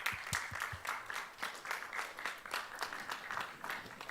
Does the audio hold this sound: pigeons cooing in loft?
no